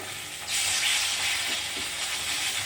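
A pan of spice paste with chili, turmeric and cumin bursts into a loud, continuous sizzle after a brief quieter moment, with a few stirring scrapes underneath.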